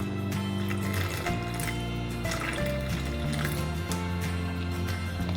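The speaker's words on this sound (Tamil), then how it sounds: "நம்ம தேவையான அளவு தண்ணி விட்டுக்கலாம்." Water is poured into rava uttapam batter in a kitchen, a steady trickling stream running throughout, fairly quiet and continuous.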